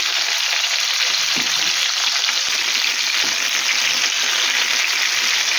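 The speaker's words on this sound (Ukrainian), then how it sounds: "коли він отак смажується" Eggplant pieces fry in a pan with a steady, close, broadband sizzle, while occasional soft knocks and scrapes mark slow stirring.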